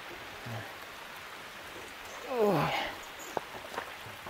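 Rain falls around a village home of the Lào Kang people in Nghệ An, a faint steady patter under a brief voice and a few sharp knocks near the end.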